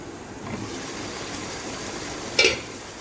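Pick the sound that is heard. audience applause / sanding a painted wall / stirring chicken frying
stirring chicken frying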